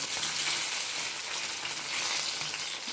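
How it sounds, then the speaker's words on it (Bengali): Fish frying in a pan on a home stove, a steady dense sizzle with fine crackle running evenly throughout at close range, no voices. "তো এদিকে মাছ ভাজা বসিয়ে দিয়েছি, মাছ হয়ে এসছে।"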